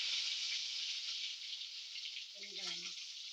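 Mustard seeds sizzling in hot oil in a frying pan, a bright hissing crackle that fades gradually, with a short burst of voice near the end.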